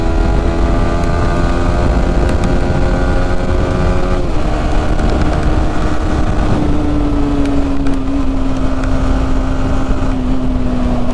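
A motorcycle engine drones steadily and close, its pitch dropping in steps as the rider downshifts through the gears, with no talking over it.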